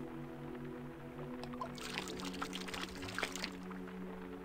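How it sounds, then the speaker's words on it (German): Water poured from a bottle in the Tomb Raider level editor game Mists of Avalon, Croft Manor courtyard: a steady splashing pour lasting a few seconds over a low game hum, moderately loud. "Probieren wir mal, unsere Wasserflasche da rein zu kippen."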